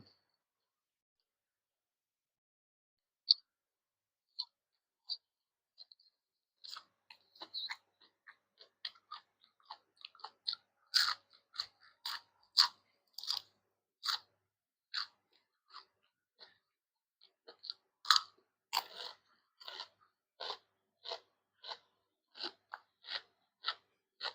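Someone chews crunchy raw beef larb with spring onion, faint crisp crunches and clicks coming irregularly at first, then in a steadier rhythm, close and quiet with no talk.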